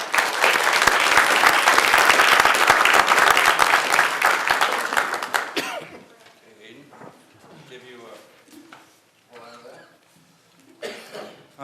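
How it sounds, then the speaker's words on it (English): Loud applause from the audience at a city council meeting fills the first half, then fades out. Quieter talk and a few coughs follow. "Let's hear a big round of applause for Aiden."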